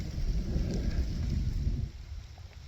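Light rain patters as a soft steady hiss at a campsite, with a low rumble underneath that fades after a couple of seconds.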